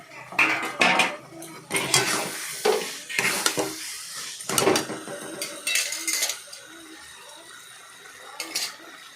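A spoon scrapes and clatters repeatedly against a pot while fried potatoes are stirred into rita fish curry, irregular bursts of metal-on-metal clinks over a faint sizzle, growing quieter toward the end.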